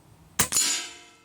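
An Umarex Gauntlet 2 regulated PCP air rifle fires a single pellet: one sharp, close crack with a quick metallic ring that fades over about a second. No speech.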